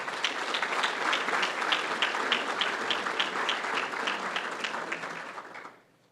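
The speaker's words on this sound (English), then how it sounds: "let's hear a round of applause for all the sponsors" A Rotary Club veterans' salute breakfast audience applauds the sponsors, steady dense clapping from a room full of people that holds for several seconds, then fades out quickly near the end.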